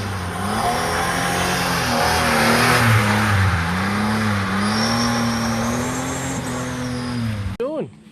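A Holden Commodore drives with its engine humming steadily, the pitch rising and falling through gear changes across several seconds, before the sound cuts off abruptly at the end.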